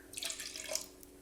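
Apple cider vinegar pours briefly into a bowl in a kitchen, a soft splashing trickle with no talking.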